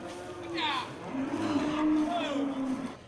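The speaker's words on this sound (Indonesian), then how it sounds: "kita lihat ada beberapa ekor sapi jantan supur" Simmental bulls lowing under bamboo trees on a cattle farm: a couple of drawn-out moos, moderately close, over steady outdoor background noise.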